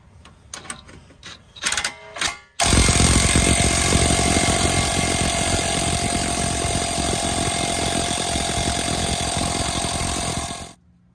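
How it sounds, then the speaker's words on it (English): An impact wrench tightens front strut bolts on a 2013 Dodge Journey 3.6 SXT, starting after a few clanks and rattling loudly and continuously for about eight seconds before stopping. "I'm going to use a wrench, and it should tighten it right up."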